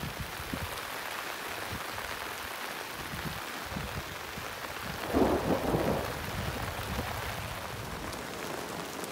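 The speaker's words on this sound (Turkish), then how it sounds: "Gök gürlüyor." Heavy rain pours steadily outside a wooden house under construction while thunder rumbles low and distant, swelling briefly midway. The hiss of rain stays constant throughout, and no one speaks.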